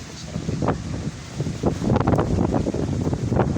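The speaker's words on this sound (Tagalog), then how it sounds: "panay po ang palo ng dahon kasi malakas ang hangin" Strong gusts of wind buffet the microphone in uneven bursts beneath a jackfruit tree in Pililla, Rizal, with leaves rustling beneath and the roar swelling louder toward the end.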